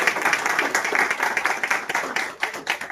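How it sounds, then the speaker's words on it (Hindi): Applause from an audience at an old-age home gathering, a steady dense patter of many hands clapping close by for about three seconds, no voices over it. "जोरदार ताली के साथ।"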